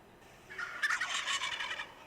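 A white tom turkey gobbles once, a loud rapid warbling rattle that breaks in after a quiet start and rolls on for over a second before tapering off, close by with no voices.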